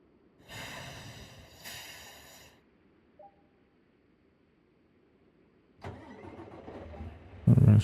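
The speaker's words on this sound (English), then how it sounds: "We're gonna start the engine." In American Truck Simulator, a truck's engine cranks and catches: a short cranking burst, a pause, a second burst, then near silence before the engine roars into a loud, rising run near the end.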